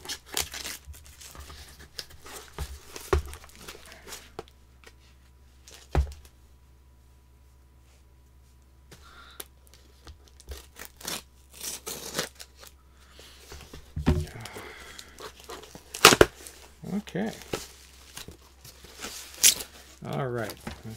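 Scissors cut and tear through cardboard in short bursts and scrapes, separated by pauses and occasional talking.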